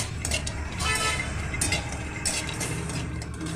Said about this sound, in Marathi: कढईमध्ये थोडंसं तूप टाकून काजू, बदाम आणि मनुके छान असे परतून घ्यायचे